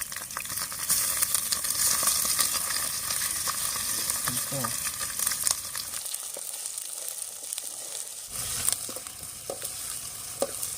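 Ginger fries in hot oil with a dense, continuous sizzle and crackle, briefly dipping then resuming, alongside occasional stirring taps.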